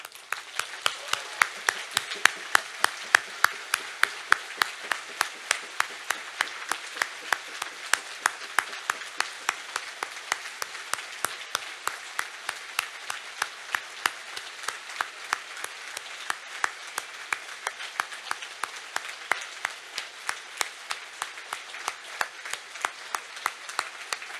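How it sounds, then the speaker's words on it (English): A crowd at a political rally after an independence march in Cardiff claps steadily in unison, a long run of dense, rhythmic outdoor applause. "we would like to do a moment's clap"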